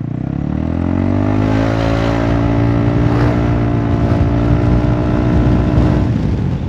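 A scooter engine fitted with heavy rollers and a 2-degree clutch bell runs at low revs with a steady, loud, close droning hum. Its pitch holds fairly constant and shifts only slightly.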